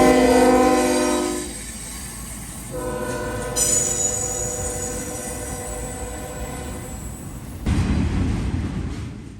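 A freight train in southwest Ohio rumbles past with loud horn blasts, then a steady rolling clatter of cars and a surge of low grinding noise near the end.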